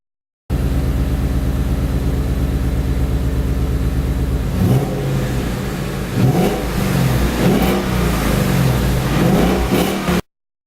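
A Ford Mustang S550 on its stock exhaust, before an SVE 2 1/2 inch exhaust install, idles with a steady rumble, then revs several times in quick bursts, loud and close, with no talking.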